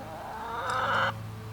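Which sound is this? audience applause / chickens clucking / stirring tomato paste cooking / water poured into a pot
chickens clucking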